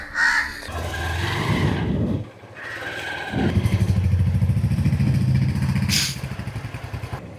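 An Xtreme motorcycle engine starts and revs, then settles into a steady, throbbing idle that pulls away, loud and close, with a brief clatter partway through.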